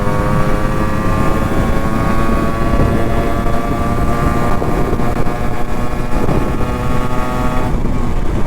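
A restored Yamaha RX100 motorcycle engine runs with a loud, steady, rough two-stroke drone, close and continuous without pause and with no voices over it.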